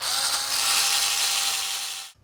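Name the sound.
drilling for an anti-rotation tab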